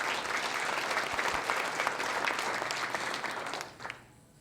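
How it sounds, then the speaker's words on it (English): An audience at a student awards ceremony claps in steady, sustained applause for several seconds, then tapers off quickly at the end. "you should clap for that, because you guys have all done a great job"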